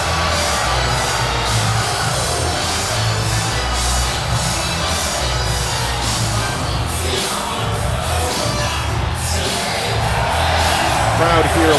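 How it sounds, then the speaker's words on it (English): Steady, dense crowd cheering and roaring fills an arena in a wrestling video game. It holds loud and continuous throughout, with no clear pauses. "Crowd here loves Gwimbly."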